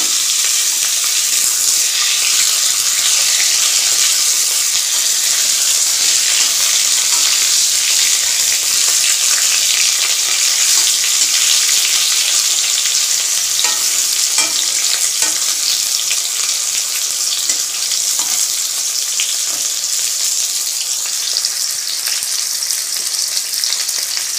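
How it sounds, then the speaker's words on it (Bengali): Potatoes and green banana fry in a pan with a loud, steady sizzle and occasional stirring scrapes running throughout, close up and with no talk. "আলু বেশ লাল করেই ভাজা হয়ে এসছে, যদিও নরম হয়নি"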